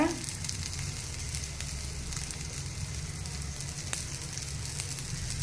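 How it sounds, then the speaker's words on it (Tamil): Steady sizzling of spices frying in a hot pan, a constant crackling hiss with a few faint clinks, close up and without talk. "வறுக்கும் போதே நல்லா ஸ்மெல்லுங்க"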